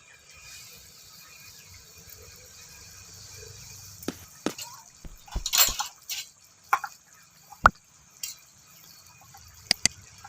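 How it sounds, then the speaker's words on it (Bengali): Spicy oil curry of fresh pond fish simmering in a pot after fried fish pieces are added: sparse, sharp bubbling pops and small crackles over a quiet background, getting busier toward the middle. "মাছ দেওয়ার পরে একটু ঝোলটা ফুটে গেছে।"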